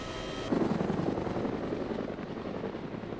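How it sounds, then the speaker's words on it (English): A helicopter in a video game, a steady loud rotor and engine drone running continuously throughout with no talking. "Look, we're in Winnie's helicopter"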